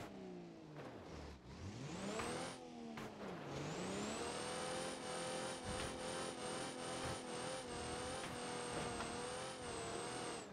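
Autobello Stambecco crawler engine in BeamNG.drive, revving loud and close in a low gear, its pitch dipping and climbing before settling into a steady high-pitched whine that holds to the end.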